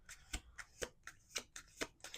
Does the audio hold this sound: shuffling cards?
yes